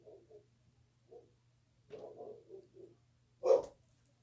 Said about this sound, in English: Neighbor dog's barking.